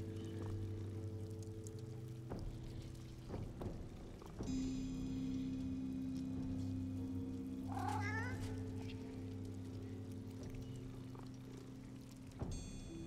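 A cat meows in the video game Divinity: Original Sin 2, a few drawn-out, wavering calls heard near and clear over a sustained ambient drone and game music tones.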